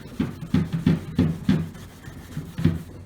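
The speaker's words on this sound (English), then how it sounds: "Polish out that old base coat, bring it out" A towel rubs by hand over a car's delaminating clear coat in even back-and-forth strokes, about eight soft, close swishing passes in a steady rhythm with a brief pause midway.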